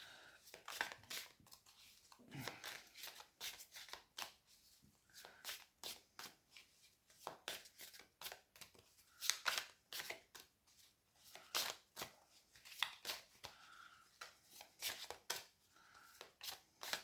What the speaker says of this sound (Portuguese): Vou tirar agora o arcano menor, vou baralhar arcanos menores.